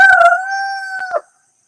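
A rooster crows once, loud and close, a long sustained two-tone call lasting about a second before breaking off abruptly into silence.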